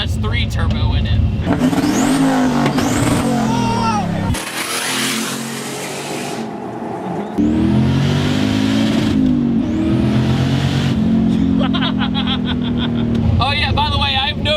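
An LS turbo V8 swapped into a Nissan 240SX with a rear-mounted radiator, its engine droning loud and steady as it pulls and rises in pitch, with a brief dip midway; someone talks over it.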